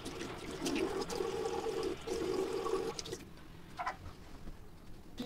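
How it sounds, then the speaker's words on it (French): Lukewarm tap water runs and splashes steadily while a dried face mask is rinsed off, a close broadband rush for about three seconds before dropping to quieter drips and small splashes. "je vais maintenant rincer à l'eau tiède"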